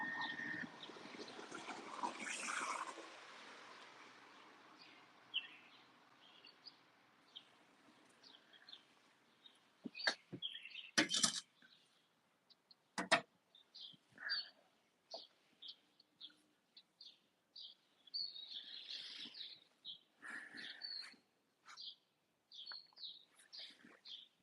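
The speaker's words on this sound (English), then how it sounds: "Listen to the birds" Birds chirp and tweet outdoors near a porch in scattered short calls, some close and sharp, others faint, over a soft background hiss and distant traffic rumble.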